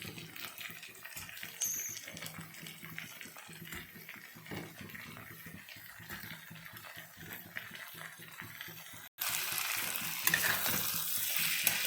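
Fish curry of motor fish fries quietly in a pan while a spoon stirs it with soft scraping and a steady low sizzle; partway through, a brighter, louder hiss takes over.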